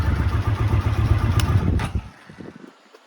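A 1981 Honda CX500 motorcycle engine, laid up since 1995, runs with a steady low throbbing idle close by, then cuts off abruptly about two-thirds through, leaving near silence.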